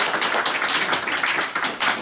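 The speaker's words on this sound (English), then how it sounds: "she deserves a round of applause just for that" An audience clapping at an astronomy society talk: a steady, moderately loud patter of many hands applauding throughout, with no voices over it.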